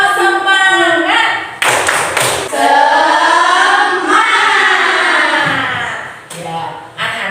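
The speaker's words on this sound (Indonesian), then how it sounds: "kita awali dengan tepuk semangat dulu ya" Schoolchildren in a classroom do a rhythmic spirit-clapping routine, chanting loudly in unison with a few sharp bursts of claps between the chanted lines.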